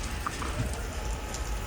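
Light rain mixed with snow falls steadily in Manali near a long traffic jam, a soft continuous patter with faint drips, no talking.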